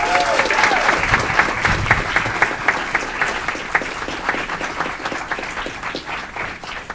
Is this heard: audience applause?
yes